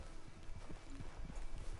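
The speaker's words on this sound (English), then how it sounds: "Get on the horse when you're ready." Hooves of a horse in a PS4 video game clop in a quick, faint rhythm against a low background hum, with no talk over them.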